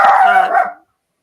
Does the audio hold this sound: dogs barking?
yes